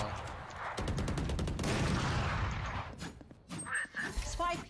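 Rapid bursts of gunfire from a Valorant match, loud and dense for the first few seconds, then sparser shots and game effects with some talk mixed in.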